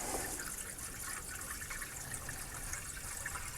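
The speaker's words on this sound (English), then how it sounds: "I'm dumping some water down the hatch with Mama's watering can" Water is poured steadily from a watering can into the radiator of an old Dodge Power Wagon truck, making a continuous hissing, trickling splash at moderate level with no pauses.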